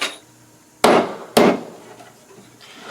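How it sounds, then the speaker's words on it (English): A ball peen hammer drives nails into a wooden honey box (medium deep super), giving two sharp, loud metallic strikes about half a second apart, close by, over quiet room tone. "I'm using a ball peen hammer and not your typical nail driving claw hammer"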